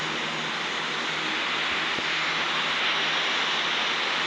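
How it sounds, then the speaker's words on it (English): Asiana Airlines airliner jet engines spooling up for takeoff in a flight simulator game on a windy day, a steady, loud broadband roar that holds constant throughout with no voices. "And immediately start the takeoff."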